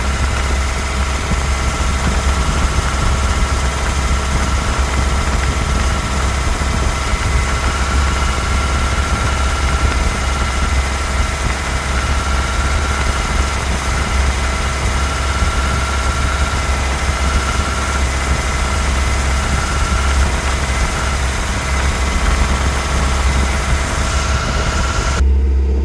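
Ford Cortina P100 engine idling steadily and loudly with a constant low rumble and vibration throughout, no talk.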